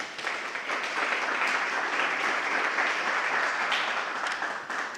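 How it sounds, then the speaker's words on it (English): An audience gives a sustained round of applause for a team at a lifestyle village event, a dense, even wash of clapping held at steady volume throughout. "I think you guys can give them a round of applause."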